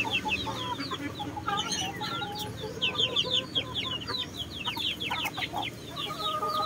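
Native Joloano chickens, including a stag, cluck steadily at close range, with overlapping calls and sharp chirps over a busy farmyard background.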